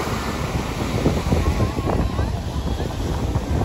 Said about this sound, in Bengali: অনেক বড় বড় ঢেউ আসছে এখন।